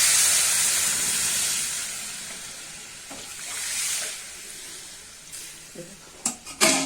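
Masoor dal lentils go into a hot cooking pot, giving a loud, steady steam hiss and sizzle that fades slightly midway, followed by a few short clatters toward the end.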